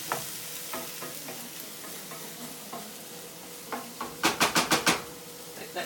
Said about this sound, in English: Let that saute just a couple more minutes.